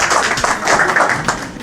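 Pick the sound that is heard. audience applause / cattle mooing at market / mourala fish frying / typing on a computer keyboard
audience applause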